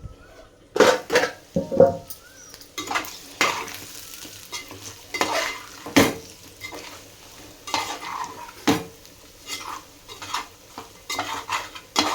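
Mutton fry sizzling in a pan, with repeated scraping and stirring strokes from a spoon against the pan breaking through a steady frying hiss, close and moderately loud, no talking.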